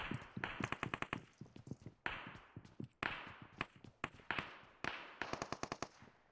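Bursts of automatic gunfire in the PUBG Mobile battle royale game, rapid clustered shots in repeated volleys, crisp and fairly close, with no talking.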